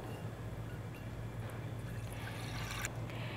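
About half a liter of milk pours into a container for crème caramel, a faint, steady liquid rush and trickle over low background noise.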